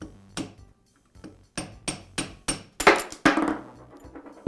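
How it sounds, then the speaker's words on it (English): A socket tapped with a hammer drives the bearing out of a Porter Cable router's bearing carrier held over vise jaws: about nine sharp metallic taps, close and loud, spaced irregularly and growing heavier toward the end. "use the socket on the inner race to tap the bearing out"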